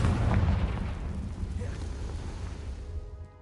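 A Confringo blasting spell explodes in the Hogwarts Legacy video game: one heavy, booming blast with a deep rumbling low end that decays over a few seconds.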